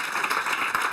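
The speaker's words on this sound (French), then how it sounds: "Applaudissez l'ensemble des concurrents." Audience applauding competitors at a 24 Hours of Le Mans presentation, a brief, dense wash of clapping at moderate level with no voices.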